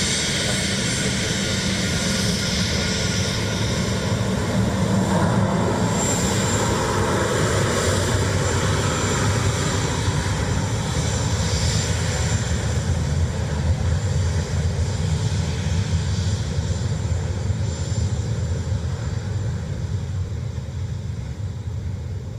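Ryanair airliner inbound from Manchester to Dublin Airport, its engines a steady broadband roar heard from a fixed spot nearby, holding level for the whole stretch with no voices over it.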